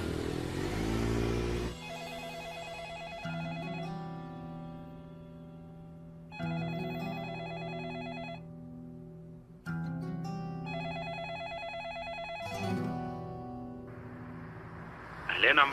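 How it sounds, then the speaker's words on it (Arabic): Landline telephone rings unanswered in a quiet room, a repeated electronic trill in three or four long bursts separated by brief pauses, with a short rumble of traffic at the start. "اتصلت على الأرضي ما ردت"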